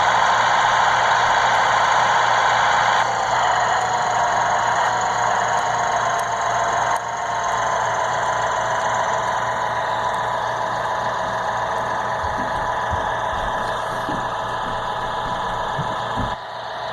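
A steady tractor engine drone with a high whine in Farming Simulator 14 on PS Vita runs throughout, unbroken and fairly loud, with a few faint knocks near the end.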